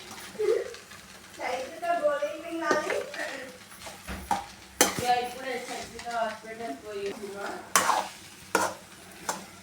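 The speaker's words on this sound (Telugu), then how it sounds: "ఇప్పుడు అన్నాన్ని మొత్తం కలిసేటట్టు మంచిగా కలుపుకొని" Garlic rice being stirred in a pan, with scraping and soft sizzling under a voice talking throughout, and sharp utensil knocks against the pan at intervals.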